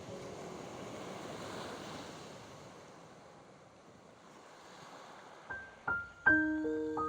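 Ocean waves of the Java Sea wash steadily in a continuous surf hiss with wind across the microphone, fading slightly midway before a few sharp louder impacts and tonal sounds near the end.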